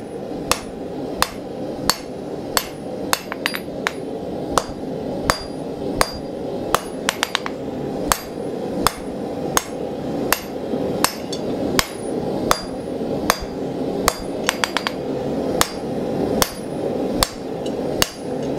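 Power hammer with a round die forging a horse head belt buckle, delivering a loud, steady series of sharp metallic blows about once a second, with occasional quick double strikes over a constant shop hum.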